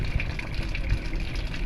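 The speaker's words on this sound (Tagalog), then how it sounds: "Ayun, lumabas na ang kanyang tubig" Water pours steadily out of an alkaline purifier water filter, a continuous close gushing and trickling stream with no talk.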